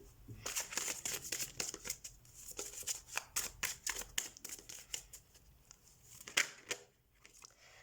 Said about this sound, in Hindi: let's shuffle your cards